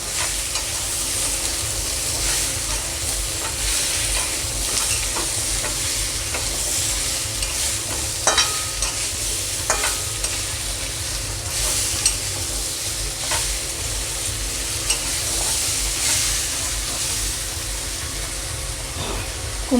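Potatoes and Malabar spinach stalks fry in a pan for a spinach stalk curry with rohu fish head, giving a steady, close sizzle with stirring scrapes throughout and no talk.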